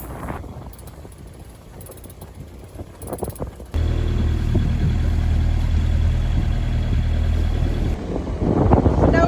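A sailboat's motor runs steadily as the vessel crosses a channel toward the Channel Islands, a low constant engine drone joined by wind buffeting the microphone, after a quieter stretch of wind noise.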